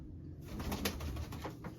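Pigeons coo softly in a steady low murmur, with faint rustling and scattered flutters throughout, no voices.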